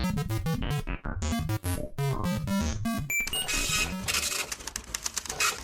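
A printer in a studio rattles and chatters through a short printing run, with rapid mechanical clicks and whirs that build into a denser burst near the end.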